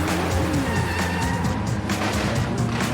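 Cars in a theme-park stunt show drive past, a dense engine roar with rising and falling tones like revving and tire squeal, loud and continuous.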